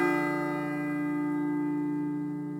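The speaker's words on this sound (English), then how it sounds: "It sounds like a bell, but where's it coming from?" A single struck bell rings out in the video game Persona 3 FES, its rich ringing tone decaying slowly and sustaining clearly across the whole moment.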